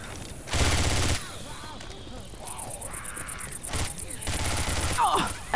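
Gunfire in Left 4 Dead 2 during a competitive tournament match: two long, loud bursts of rapid automatic fire bracket a stretch of quieter game noise, with a voice speaking in between.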